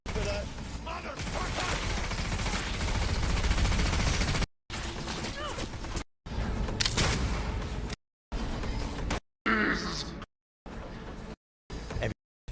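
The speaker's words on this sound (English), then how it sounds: "This is a smart gun." Smart gun firing in Cyberpunk 2077, loud sustained bursts of rapid shots with brief silent gaps between shorter volleys.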